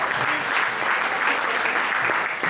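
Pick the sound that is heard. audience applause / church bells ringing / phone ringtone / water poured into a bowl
audience applause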